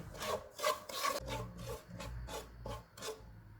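Sugar and honey are stirred in a pan over medium-low heat for struffoli, heard as a steady run of soft, rhythmic scraping strokes close by and fairly quiet.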